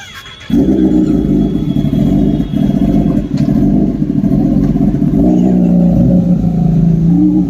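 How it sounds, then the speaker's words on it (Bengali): A Kawasaki Ninja ZX-10R superbike engine starts loudly after half a second. It settles into a deep, throaty idle with sustained rumbling and a slight rise in pitch near the end, close and alone. "আমি ভাবলাম কখন বাইকটা চালাবে আর সাউন্ডটা শুনতে পাবো তোমরা শুধু সাউন্ডটা শুধু শোনো"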